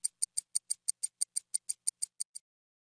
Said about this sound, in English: A watch sounds like this.